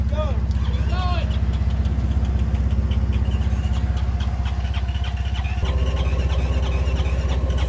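A Honda engine straining hard in a deep mud hole, droning loudly and steadily the whole time with a heavy low rumble, while faint voices come and go in the background.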